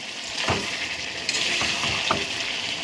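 Potatoes being stirred in a hot pan, a continuous close frying sizzle broken by several scraping, knocking strokes of the spoon against the metal.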